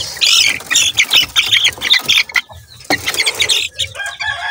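Young broodcock chickens squawking and clucking up close, loud overlapping calls with sharp squawks and brief gaps between bursts.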